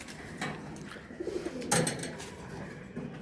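A female Jalali pigeon coos in low, soft bursts, with a louder coo near the middle over a noisy background.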